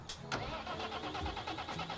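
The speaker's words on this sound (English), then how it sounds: "if I start the tractor here" A tractor engine in the Farming Simulator 25 video game cranks and starts up, sounding close and clear, with rhythmic starter turnover settling into a running engine over about two seconds, with no talking.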